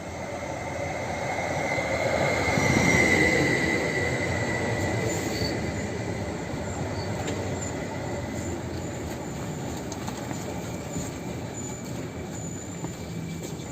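A train rolls through Warszawa Gdańska station, a steady rumble of wheels on rails with faint squealing, swelling loudest early then holding at a level hum, no voices.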